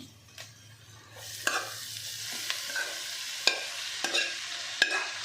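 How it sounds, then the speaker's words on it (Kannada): Chopped spinach stirred into crushed garlic frying in a pan, with a soft continuous sizzle and a series of sharp scraping and clinking stirring strokes close by. "ಈಗ ಪಾಲಕ್ ಕಟ್ ಮಾಡಿ ಇಟ್ಕೊಂಡಿದ್ದಲ್ಲ ಅದನ್ನು ಸೇರಿಸ್ಕೊತಾ ಇದ್ದೀನಿ"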